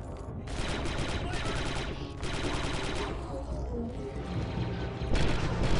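Rapid sustained turret gunfire in Star Wars: Republic Commando, a dense rattling barrage of automatic shots that runs almost unbroken and loud, with heavier bursts near the end.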